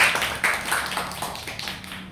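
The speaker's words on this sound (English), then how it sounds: "Give a big round of applause for Aristo." An audience gives a round of applause at a talk on charisma: a dense, moderately loud patter of many hands that starts strongest and gradually fades over two seconds.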